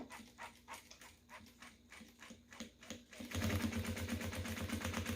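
A sewing machine stitches quilted matelassé fabric with black thread, a rapid mechanical chatter that grows louder and denser partway through.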